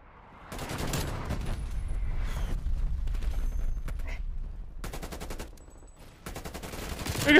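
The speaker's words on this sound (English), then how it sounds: "Biggest gunfight of my career." Rapid automatic gunfire bursts in a video game gunfight, loud and dense, with several volleys separated by short pauses and a final burst at the end; no talking.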